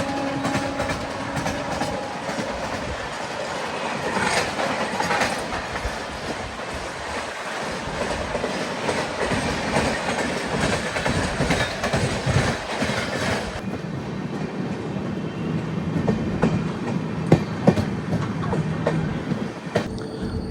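A Vande Bharat Executive class express train running on its rails, steady loud rumble and clatter throughout with rushing wind noise, shifting in tone partway through, no voices.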